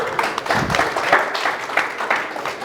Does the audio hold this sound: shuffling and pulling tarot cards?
no